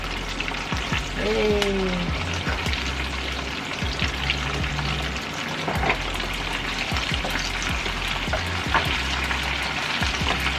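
Korean fried chicken pieces frying in hot oil, a steady close sizzle and bubbling throughout, with a few utensil knocks and a brief voice over it.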